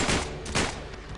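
Rapid gunfire bursts in Uncharted 3, set in a London metro, dense and continuous with two louder surges, no voices.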